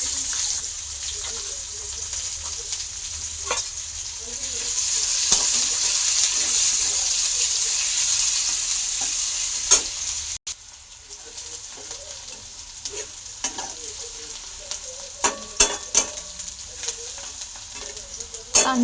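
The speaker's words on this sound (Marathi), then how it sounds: "कांदा मऊ शिजेपर्यंत भाजायचा आहे." Onion frying in a pan of hot oil with cumin seeds and crushed garlic, giving a loud, steady, close sizzle with occasional clinks of a spoon and a brief drop partway through.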